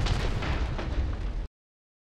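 Gunshots in the video game Resident Evil 7 come as a quick close burst of loud, heavy blasts for about a second and a half, then cut to silence.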